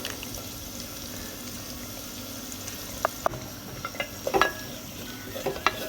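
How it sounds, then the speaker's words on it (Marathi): Chopped onion and ginger-garlic paste sautéing in a pan for Bhogichi bhaji, a steady low sizzle with a few light spatula clinks and scrapes near the end. "आता हे छान परतू द्यायचे आपल्याला"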